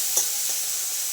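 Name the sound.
stirring and sautéing spice paste for egg tarka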